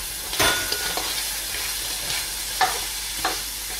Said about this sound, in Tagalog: So, gisa lang natin maigi ito hanggang sa maging brown na siya.